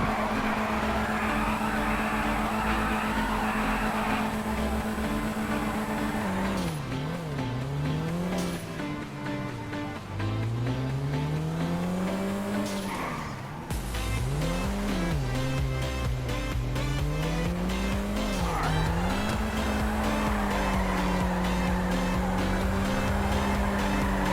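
A pink car driven in GTA V, its engine droning and revving up and down steadily with occasional tire squeal, loud and close, alone without talk.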